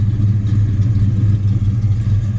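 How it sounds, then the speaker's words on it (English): A 1970 Plymouth Road Runner V8 with dual exhaust and an aftermarket cam rumbles steadily close by, a loud, deep, lumpy idle with no voices. "beautiful sound and dual exhaust, absolutely no smoke out the tailpipes"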